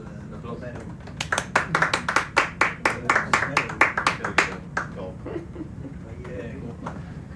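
Divers on an underwater biology survey clapping together, a quick burst of about fifteen sharp, evenly spaced claps that stops abruptly, muffled by steady background noise.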